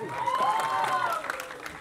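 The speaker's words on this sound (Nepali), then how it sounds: "सबै छोराछोरीलाई जोरदार ताली" Audience at a trailer launch event applauding together, a steady wash of clapping with some crowd noise and a voice speaking over it, fairly loud and continuous.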